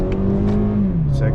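A 2018-or-newer Toyota Camry's engine revs up in first gear with paddle shifting, a loud steady drone that dips in pitch as the car pulls away, with someone talking over it.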